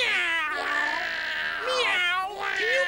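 A cat meows in a drawn-out, wavering call, then gives two shorter rising meows, loud and close with no talking over it.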